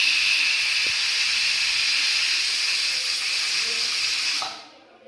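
A pressure cooker with chicken biryani lets off a loud, steady hiss of escaping steam that holds for several seconds, then cuts off abruptly into near silence.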